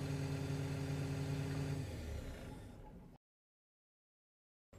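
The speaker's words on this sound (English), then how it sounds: "If the engine is hot and the stop button is pressed, the engine will continue to run while the turbo cools down." A John Deere crawler loader's engine idles steadily with a low hum and tonal drone while its turbo cools, fading gradually before cutting off into silence.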